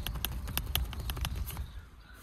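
Locus Gear Khufu tent poles in a two-pole setup rattle and clack together, a quick run of light, close tapping clicks that fades out near the end.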